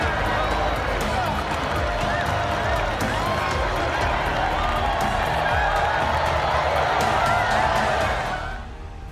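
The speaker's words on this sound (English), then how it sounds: "The crowd is going wild, and finally they can enjoy this deserved moment of glory." Crowd cheering in the MotoGP 20 racing video game during a Ducati GP20 career race: a dense, sustained roar of cheering and noise that holds steady and then fades away at the very end.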